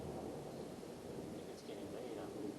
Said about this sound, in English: Yeah, it's thundering outside.